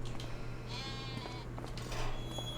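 A Black Brown Mountain sheep in Farming Simulator 25 bleats a few times, faint and wavering over a low steady hum of game ambience.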